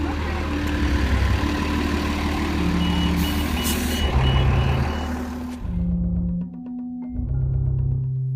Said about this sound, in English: you could hear the bus coming at the end